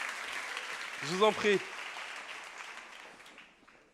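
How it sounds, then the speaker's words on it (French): An audience applauds at a women's initiative event, a moderate wash of clapping that gradually fades away, while a voice briefly speaks over it. "Vous pouvez les applaudir très très fort encore"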